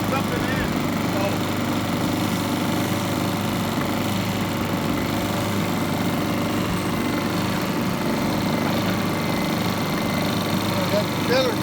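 A small engine, started with the choke, runs at a steady, loud, high-pitched drone from start to finish, with muffled voices in the background.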